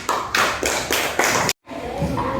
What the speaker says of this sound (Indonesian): tepuk tangan untuk Aini dan Farhan